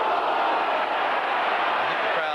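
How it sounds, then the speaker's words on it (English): A rugby league stadium crowd at a 1986 Kangaroo Tour match between Wigan and Australia roars continuously, a loud, dense, sustained cheer filling the whole moment. "I think the crowd told the story there."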